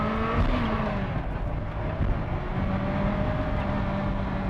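Ferrari F40 sports car under hard acceleration, its engine roar loud and close with pitch climbing, a brief dip like a gear change, then rising again.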